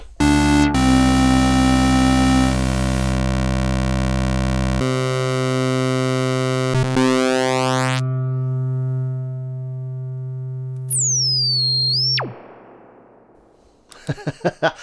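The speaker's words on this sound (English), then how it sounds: "Let's just play a little filter sweep again." A Moog Grandmother analog synthesizer tone sweeps its filter across a rich, buzzing sound with shifting harmonics, ending in a rising whistle-like chirp and brief clicks; no talking.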